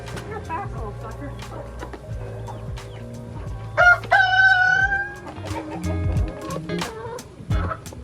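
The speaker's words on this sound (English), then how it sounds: "Got my chickens." Rooster crowing clearly at mid-clip amid clucking chickens on a farm being picked up to go to the alpacas, with scattered handling noises and voices in the background.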